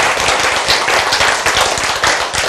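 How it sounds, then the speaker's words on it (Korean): A church congregation bursts into loud, dense clapping, a close and sustained wall of many hands striking in quick irregular rhythm for the whole stretch. "박수."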